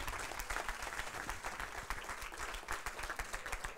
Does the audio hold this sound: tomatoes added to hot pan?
no